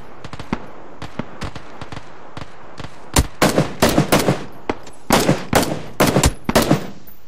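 Gunfire in a shooter game, including bursts from an Uzi: sharp, close shots arrive in quick clusters, sparse at first and then in dense rapid volleys over the second half.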